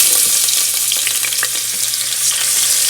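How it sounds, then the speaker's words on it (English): Onions hit hot oil in a soup pot for lentil vegetable soup, giving a loud, dense, continuous sizzle heard up close, with faint utensil scrapes under the steady hiss. "And now I'm going to add some onions."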